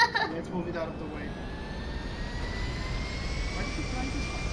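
An airplane engine in the video game GTA 5 gives a steady roar with a slowly rising whine, a brief louder burst at the start, then even and moderately quiet.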